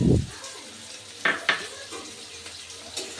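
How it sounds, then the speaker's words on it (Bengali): Sliced bitter gourd fries with chopped onion and slit green chillies in a pan, a low sizzle broken by a few sharp scraping stirs and utensil knocks. "পেঁয়াজের সাথে উচ্ছেটা আমি আরেকটু ভালো করে ভেজে নেব"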